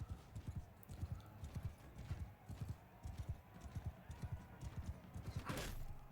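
Horses gallop in a Mount & Blade 2 Bannerlord 2v2 tournament fight, a steady run of close, loud hoofbeats with a brief whinny near the end.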